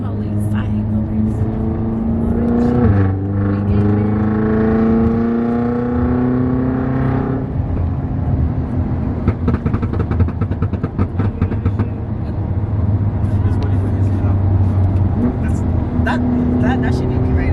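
Road traffic on the drive to a car meet, with an engine humming steadily and vehicles rumbling past in the background, while people talk over the steady drone throughout.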